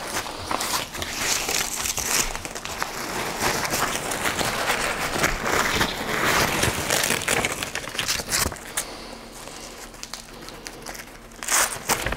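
A paraglider wing sliding into its packing bag makes a continuous close rustle and crinkle of fabric, with shuffling handling noises throughout and a brief lull near the end.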